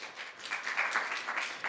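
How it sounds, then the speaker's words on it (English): Brief, steady applause from a conference audience at a Landcare masterclass, a room of people clapping together for a couple of seconds. "Round of applause for Team 3."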